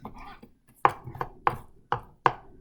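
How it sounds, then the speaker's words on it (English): Knife chopping raw chicken into small pieces on a chopping board while preparing chicken jambalaya: five sharp, evenly spaced close chops, each with a short ringing tail, after a brief stretch of softer handling noise. "you might need to just check if it needs to be cut down a little bit smaller"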